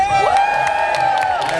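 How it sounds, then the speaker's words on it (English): A mixed crowd at a protest on Westminster Bridge cheers and whoops loudly and continuously, close and dense, with a steady high tone running through the roar. "Give me a cheer if you've been to a UK Cup protest before."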